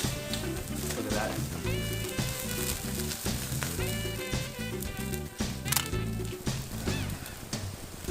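A ribeye steak sizzles over a wood-fired fire pit: a steady, close frying hiss that runs the whole time, partly masked by rhythmic background music.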